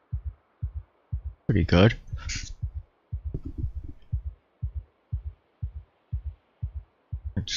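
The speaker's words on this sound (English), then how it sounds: "Quiet down the heartbeat." Steady thumping heartbeat from the survival game Project Zomboid, low double-beat pulses repeating evenly throughout, with someone briefly talking over it.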